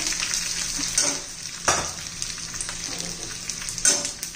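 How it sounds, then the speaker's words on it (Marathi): Finely chopped onion sautés in a pan with curry leaves and grated ginger and garlic, a steady close sizzle broken by occasional spatula scrapes and stirs. "कांदा चांगला परतून घ्यायचा आपल्याला कच्चेपणा जाईपर्यंत"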